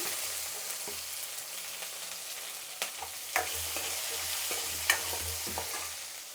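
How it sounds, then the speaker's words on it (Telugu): Onion and green chillies frying in a hot tempering of dal and seeds for sambar, with a continuous sizzle, spoon scrapes and a few sharp clinks against the pan, no talking. "ఎర్రగడ్డ పచ్చిమిరపకాయ వేసుకుందాము."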